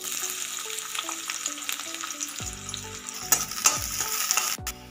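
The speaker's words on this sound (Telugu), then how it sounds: "ఇప్పుడు ఇదే ఆయిల్లో మనము ఆనియన్స్ వేసి ఫ్రై చేసుకోవాలి" Onions sizzle and crackle steadily in hot oil in a pan, with a spoon stirring through them and occasional scraping knocks near the end.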